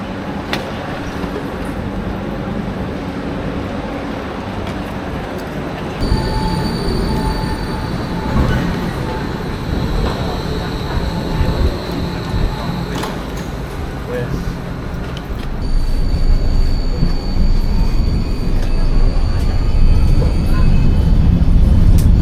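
Arriving at Vienna main station, a passenger train rumbles along with squealing wheels and rising rolling noise, while a German onboard announcement plays over it.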